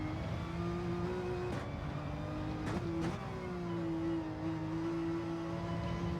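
A car engine in Gran Turismo 7 hums on throttle at Barcelona, a steady loud tone that dips and recovers around a few brief shifts or bumps.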